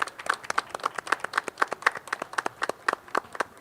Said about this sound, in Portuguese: todo mundo desse uma salva de palmas aqui para o Léo